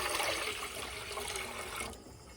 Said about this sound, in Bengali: এখানে হচ্ছে একটা গামলা বসিয়ে নিয়েছি যার মধ্যে এখন দিয়ে দেবো জল